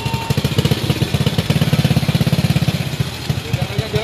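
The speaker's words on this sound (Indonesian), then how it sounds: "Matiin dulu motornya, Pak." Motorcycle engine idling close by with a steady, rapid pulsing beat and some clatter, and voices talking over it.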